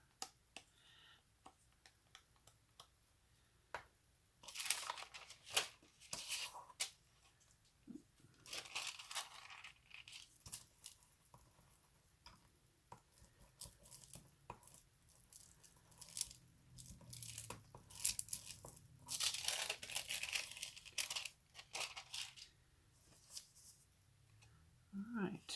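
Crinkly foil rustles and crackles in irregular bursts as aluminum foil is smoothed down along an edge during a Christmas craft project, close and fairly quiet, with stretches of near silence between the bursts.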